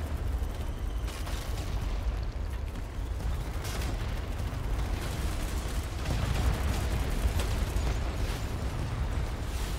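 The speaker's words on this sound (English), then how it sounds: "Holy smokes with the explosions." Dense, continuous barrage of explosions and gunfire in the online shooter BattleBit Remastered, heavy booms rumbling over one another for the whole stretch with no pause, loud and chaotic.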